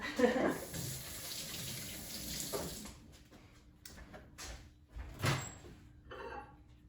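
A kitchen tap runs steadily for hand washing during holiday baking, a soft, continuous hiss of water with a few brief clatters and knocks toward the end.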